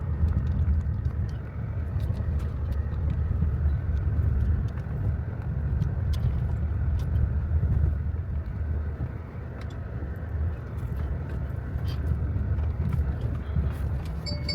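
A car drives along a street in the Lisniaky district of Yahotyn, a steady close engine and road rumble from inside the vehicle, continuous with no speech.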